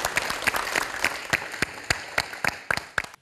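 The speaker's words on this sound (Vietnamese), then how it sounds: "Một tràng vỗ tay cho xoán ngôi" Audience clapping on the Vietnamese TV word game show Vua tiếng Việt, with distinct individual claps standing out in an uneven rhythm over a lighter bed of applause, fairly close and moderately loud.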